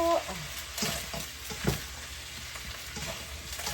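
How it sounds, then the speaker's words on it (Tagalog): Beef ribs sizzle and fry in a hot pot for beef soup while a spoon stirs them, with soft scraping knocks over a steady, fairly quiet crackle. "Tapos ilagay na po natin to yung ribs."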